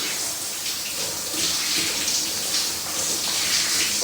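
Water pours steadily into a new bathtub at home in Japan, a continuous broad splashing rush that stays close and even for the whole stretch, with no voices.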